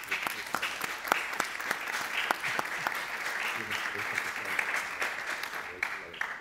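Audience clapping at a technology event on digitalization and independent living, a dense steady round of applause lasting throughout with sharp individual claps standing out.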